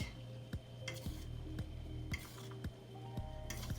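Split peas and rice being fluffed with a spoon in a pot over low heat for Bajan split peas and rice, with repeated scraping and clinking strokes and a soft steady sizzle underneath.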